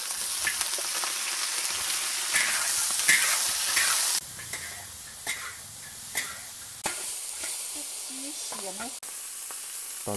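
Ginger and small shallots sizzle and hiss as they are stir-fried in a wok in an outdoor pavilion kitchen, a steady frying crackle broken by occasional spatula scrapes and knocks.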